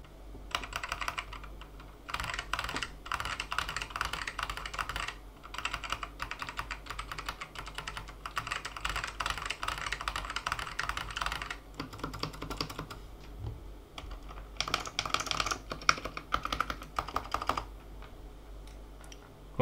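Typing on an Apple Extended Keyboard II fitted with undampened Cream Alps switches, with dense bursts of crisp clacky keystrokes in uneven rhythm and brief pauses between runs, close and alone.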